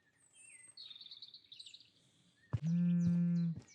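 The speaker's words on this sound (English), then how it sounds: "One morning, the chirping was different." Birds chirp in the video game The Drowning Machine, a few high thin calls at first, then a loud, steady buzzing tone that holds for about a second near the end, with no talk.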